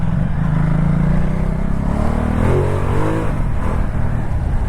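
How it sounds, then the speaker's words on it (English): A 2019 Ducati Multistrada 1260 motorcycle engine revs up through a roundabout, rising in pitch as it accelerates under loud wind rush, recorded from the rider's position. "that engine, that's really punchy still"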